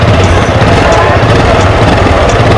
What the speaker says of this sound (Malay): so jom kita dengar sikit bunyi motor ini